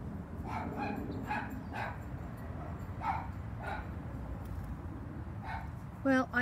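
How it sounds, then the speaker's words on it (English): A dog barks repeatedly in short bursts against a steady background rumble, moderately distant, with a sharper yelp at the very end. "As you can hear, Mr. Peanut now is barking."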